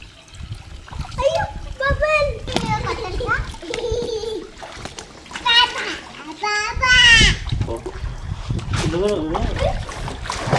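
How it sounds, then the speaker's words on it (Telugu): Water splashing repeatedly in bursts as children shout and chatter nearby during Holi play. "ఆమె చూడు నీళ్ళు కొడుతుంది కానీ నీ మీద కొడతలేదు చూడు"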